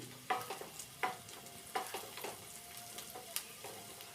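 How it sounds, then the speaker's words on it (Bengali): Onions frying in a pan with soft continuous sizzling and a few sharp scraping stirs at irregular intervals, quiet and close, no voices. "পেঁয়াজটা প্রায় ভাজাই হয়ে গেছে"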